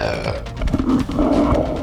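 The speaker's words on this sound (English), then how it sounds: "That was a Homer Simpson burp." A loud, drawn-out burp in a Homer Simpson style, deep and guttural, lasting nearly two seconds with a rumbling, grunting texture and no talk over it.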